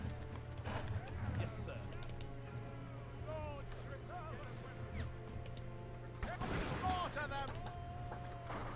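Musket gunfire in a video game modded for the 1880 Anglo-Afghan War. Scattered sharp cracks and a denser burst of shots near the end sound over steady background battle noise, while someone talks throughout.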